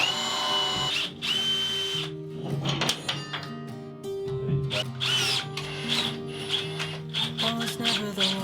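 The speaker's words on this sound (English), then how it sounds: "putting the tap in the drill, bit of oil on it, and then forward back on the drill, and you can tap it using the drill" A power drill drives a thread-cutting tap with oil, forward and reverse, in a workshop aboard a boat. It whines in short, repeated bursts with pauses and clunks between runs, close and fairly loud.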